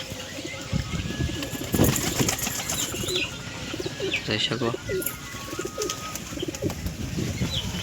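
Pigeons coo softly with bursts of wing flapping, set against steady background noise and a voice speaking briefly.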